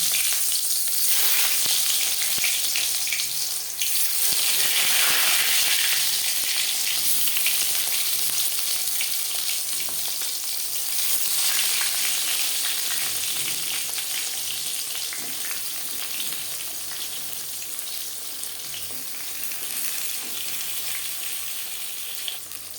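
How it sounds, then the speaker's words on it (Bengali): Eggplant slices coated in salt and turmeric sputter in hot oil in a pan, giving a loud, dense hiss that runs steadily for over twenty seconds and eases slightly toward the end. Nobody talks. "তেল গরম হয়ে গেছে এবার দিয়ে দেব লবণ হলুদ মেখে রাখা বেগুন"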